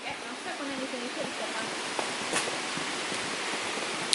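Steady, close rush of a waterfall by a porch at the natural bridge of LongByFive Caverns, a continuous broadband roar with a few faint voices and small clicks underneath.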